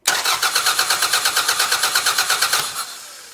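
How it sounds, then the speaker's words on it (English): A car engine cranks without starting, the starter turning over in a fast, even rhythm of about twenty pulses in under three seconds, close and loud, then stopping abruptly. "Now I'm just going to crank the engine."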